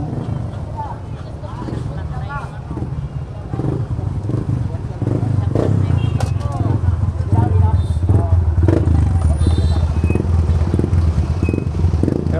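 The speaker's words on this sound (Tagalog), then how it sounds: "Hirap na yung motor eh." A strained motorcycle engine drones loudly and continuously amid a busy Malabon fish market, with wind buffeting the microphone and people talking and calling out prices over the noise.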